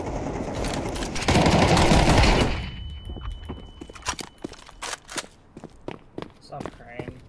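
Counter-Strike gunfire: a loud continuous burst of automatic fire for about two seconds, followed by sharp single shots and footsteps, with a player talking over the game.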